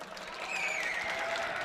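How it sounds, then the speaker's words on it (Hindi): A mushaira crowd applauds in a steady wash of clapping, and a high whistle rises and falls over the sustained applause. "एक बार भरपूर तालियां बजा दीजिए मिलके"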